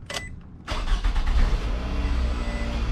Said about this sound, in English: I'm going to be starting up the engine